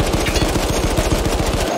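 Rapid machine gun fire in the World War I shooter Battlefield 1, a steady loud stream of closely spaced shots running without pause throughout.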